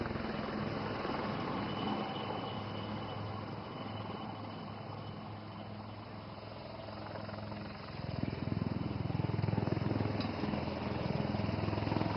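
A casualty evacuation helicopter flies in during a rescue operation in Assam, its rotor and engine droning steadily from a distance before growing louder and heavier near the end.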